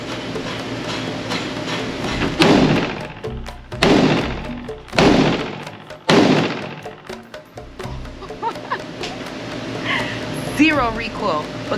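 A Ruger Mini-14 .556 rifle fired four times in steady succession, each shot a loud, sharp crack with a trailing echo, followed by quieter outdoor noise with people talking.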